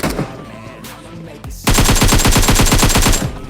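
Loud, rapid automatic gunfire from a shooter video game rattles in a fast, even burst for nearly two seconds after a quieter stretch of game ambience and a single shot.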